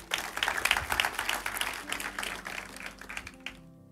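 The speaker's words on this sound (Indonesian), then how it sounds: "Beri tepuk tangan buat Tuhan." A church congregation applauds during a sermon, a dense patter of many hands clapping together that fades over several seconds, with a faint sustained tone lingering at the end.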